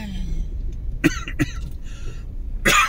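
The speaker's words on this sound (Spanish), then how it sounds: "Me agarré la tos con..." A few sharp coughs from laughing, close to the microphone, spaced apart, followed by a louder burst at the end, with faint background noise, in Mazatlán's Zona Dorada.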